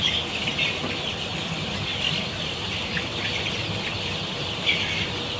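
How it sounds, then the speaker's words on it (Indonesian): Twenty-six-day-old chickens in a brooder heated by a stove, a continuous chorus of chirping and peeping from many birds with occasional rustling, steady and fairly close. "Ini kondisi ayam saya umur 26 hari."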